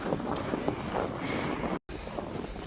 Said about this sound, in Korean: 바람 때문에 이렇게 그 나뭇가지에 있던 눈들이 막 날리고 있습니다.